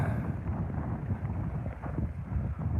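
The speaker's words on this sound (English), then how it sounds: "A bit windy up here" Steady, heavy wind buffeting the microphone, a continuous low roar and rumble with no voices.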